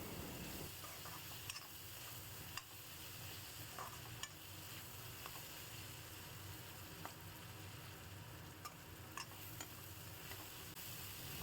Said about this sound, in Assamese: আমাৰ মূলা আৰু আলুখিনি ধুনীয়াকৈ ফ্ৰাই হৈ গৈছে।